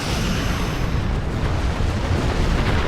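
Starship weapons fire and a large explosion in the Star Trek Online space combat game, a loud, continuous roaring blast that fills the whole stretch with no pauses.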